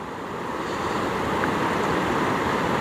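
Steady broadband wash of calm ocean surf around a charter boat floating in a channel, continuous and moderately loud with some wind noise on the microphone and no talking.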